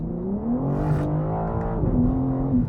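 BMW M4 CSL engine and exhaust in M2 mode, a loud steady drone that climbs and falls in pitch as revs change, with an upshift midway, heard continuously with no talking.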